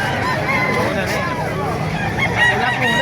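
Chickens and roosters crowd a busy poultry market in Calumpit, Bulacan, crowing and clucking loudly in overlapping calls amid steady crowd noise and people talking.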